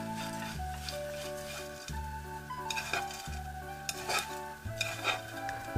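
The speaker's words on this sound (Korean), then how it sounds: "중불에 달군 팬에 불량의 식용유를 두르고 멸치를 넣어 바삭바삭해질 때까지 서서히 볶아줍니다" Steady sizzling of small anchovies stir-fried in oil in a pan over medium heat, with repeated scraping and stirring strokes, close by, over soft background music.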